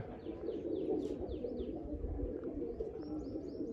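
Pigeons coo close by in a loft, a continuous low murmur broken by a few sharper chirps near the start and again toward the end.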